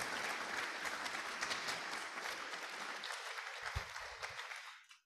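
Steady audience applause at a Rotary Club meeting, a dense wash of clapping that holds evenly for about four seconds before thinning and fading out at the end.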